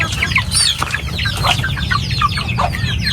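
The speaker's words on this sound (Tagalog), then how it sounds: "pakaraming manok na." Several chickens cluck and chatter close by, overlapping busily throughout with no talk.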